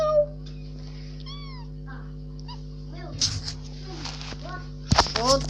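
A house cat meows a few times at close range: brief, rising calls spread through the stretch, with faint background hum and a couple of sharp knocks near the end.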